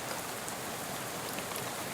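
Steady rainfall in the video game Shadows over Loathing, a dense, even hiss of drops on surfaces that holds at a constant moderate level for the whole stretch with no voices over it.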